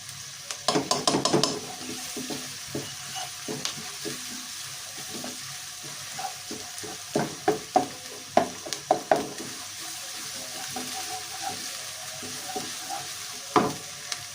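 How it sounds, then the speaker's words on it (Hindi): Onion and garlic sizzle in a hot pan with scattered stirring clatters and scrapes, steady and close, no voices. "प्याज को हमने अच्छे से सौते कर लिया"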